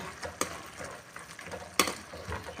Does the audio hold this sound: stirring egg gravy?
yes